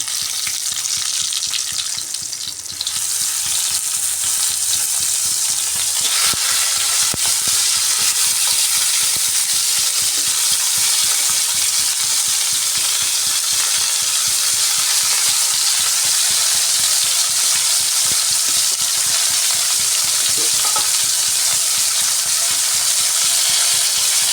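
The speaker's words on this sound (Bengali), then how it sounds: "এই সরষের তেলের মধ্যে প্রথমে বেগুনগুলো ভেজে নেব" Eggplant pieces fry in hot mustard oil in a wok, giving a steady, loud, dense sizzle with crackling throughout and a brief softer patch near the start, without any voices.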